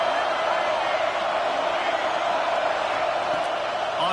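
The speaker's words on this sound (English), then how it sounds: "Listen to this crowd just shaking the girders of this place," A football stadium crowd roars steadily in a dense, unbroken wash of cheering for the home defense, loud and sustained throughout with no clear breaks.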